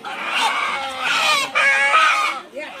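Chicken squawking and screeching loudly while held by its wings during a village Pongal gathering, harsh repeated cries filling the clip with brief breaks.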